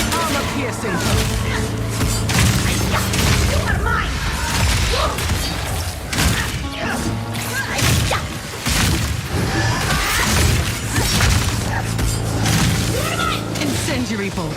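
Crossbow bolts, armor-piercing and incendiary, firing during a mini-boss fight in Path of Exile 2, with rapid thuds and booms packed densely into loud, continuous combat noise while a voice talks over it.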